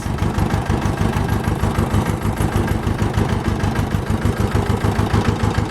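An Ursus C-330 tractor engine being run in after a rebuild chugs steadily at close range, a loud, even diesel pulse with no voices over it.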